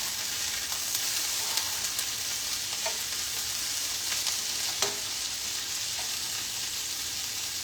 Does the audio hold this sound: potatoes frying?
yes